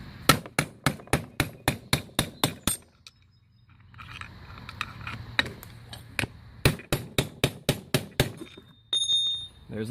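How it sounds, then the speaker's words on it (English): A small hammer knocks a bearing race out of a differential in bursts of sharp metallic strikes, rapid and evenly spaced and close. A quieter pause with faint scraping comes between the runs. "And you notice I'm not using this big huge hammer. Just this little itty bitty hammer."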